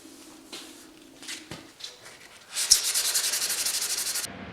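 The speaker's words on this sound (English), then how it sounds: "wet sanding a fender" Wet sanding on a car fender: faint scattered rubbing at first, then a steady run of quick back-and-forth scrubbing strokes close by, ending abruptly.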